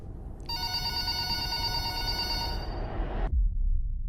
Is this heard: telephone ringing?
yes